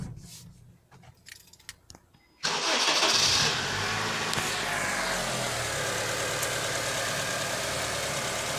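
A Honda CR-V engine starts after a few faint clicks and settles into a steady, loud idle heard close up from under the open hood, with a suspected strut mount bearing knock.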